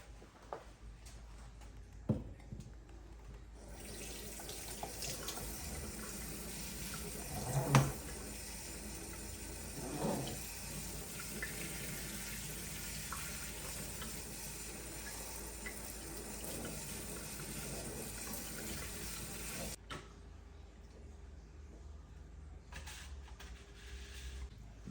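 Water runs steadily from a tap for about sixteen seconds while a freshly repotted houseplant is watered indoors, with a few soft knocks and clunks early on before the flow cuts off, leaving a quiet room.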